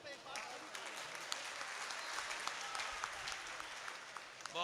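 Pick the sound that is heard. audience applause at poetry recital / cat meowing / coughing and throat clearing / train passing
audience applause at poetry recital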